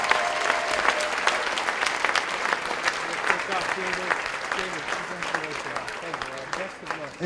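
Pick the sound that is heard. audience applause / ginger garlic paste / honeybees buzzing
audience applause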